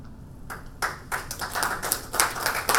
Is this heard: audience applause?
yes